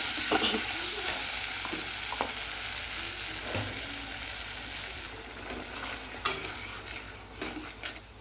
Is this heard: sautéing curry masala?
yes